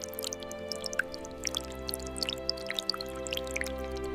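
Rainwater dripping through the grooves of a soaked, rotting log's swollen bark: scattered small, light drips at an uneven pace over a steady low hum.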